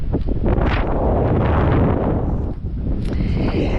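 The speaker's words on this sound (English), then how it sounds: "The wind comes from everywhere" Strong gusty wind at sea in Saint Martin's Ladders Bay buffets the microphone with a loud, rushing roar that swells and dips, with a brief lull before surging again.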